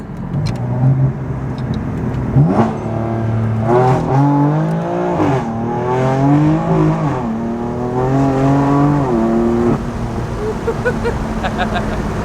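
A 600 hp BMW F82 M4 fitted with an M Sport exhaust accelerates hard through several gears, the engine note climbing in repeated rising sweeps, loud and close from inside the car, with people talking over it.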